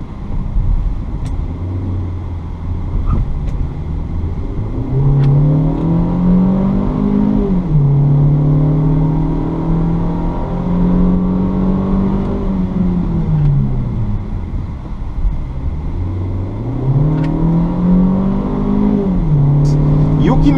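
A 2018 Hyundai Creta Prestige with a 2.0 automatic engine pulls uphill, its loud steady engine note rising and falling through several gear shifts inside the cabin.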